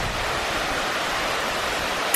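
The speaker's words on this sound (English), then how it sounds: "There's like a little river thing over there, a little waterfall, a little mini cascada" A small river spills over a little waterfall, giving a steady broadband roar of falling water that holds evenly throughout with no talking.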